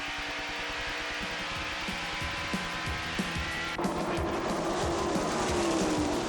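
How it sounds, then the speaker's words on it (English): A 1989 stock car race: engine roar from a car braking hard into turn three, a steady dense mechanical drone with a louder, brighter surge partway through, no voices. "On the brakes hard in turn three."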